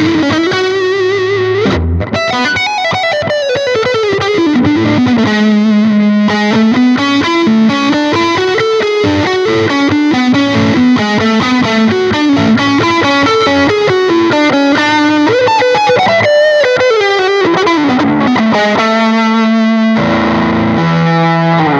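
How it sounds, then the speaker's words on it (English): High-gain distorted electric guitar on the neck pickup through an LSL pedal, bass turned all the way down, mids up and treble moderate, playing a loud, continuous riff with sustained chords and melodic runs, alone with no talk. "Let's hear it on the neck pickup. Let's hear how clear this thing stays at high gain."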